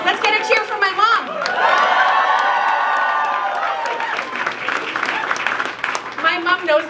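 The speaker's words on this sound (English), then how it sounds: "Let's get a cheer for my mom." An audience at a political campaign event cheers and applauds for the speaker's mother, a loud swell of clapping and whoops lasting a few seconds between stretches of someone talking.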